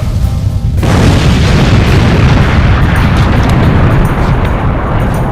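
Weapons fire strikes a spaceship's shield in a sci-fi battle, a heavy sustained booming roar that swells after a quieter opening and stays loud and dense throughout, with faint crackling bursts overhead.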